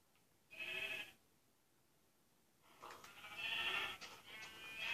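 Sheep bleat in a video game, one short bleat followed after a pause by a longer, wavering run of bleats, moderately close and without talk.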